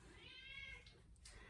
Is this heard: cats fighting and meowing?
yes